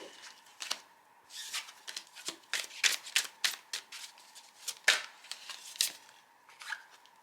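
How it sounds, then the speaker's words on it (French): Tarot cards are shuffled and drawn in a series of sharp, irregular riffling and flicking bursts, close up and fairly quiet, with no talk. "On tire la deuxième carte"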